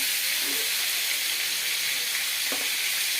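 Water hits a hot cooking pan with cauliflower in a Bengali home kitchen, producing a steady, loud hiss and sizzle that persists throughout, with a couple of faint clinks.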